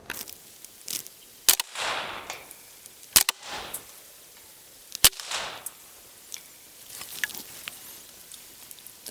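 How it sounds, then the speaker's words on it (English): A .22 rifle fitted with a suppressor fires three subsonic rounds outdoors, each a sharp, muted crack followed by a short whoosh, spaced about two seconds apart against a quiet background. "now let's do 3 rounds suppressed with, 3 rounds subsonic with the suppressor"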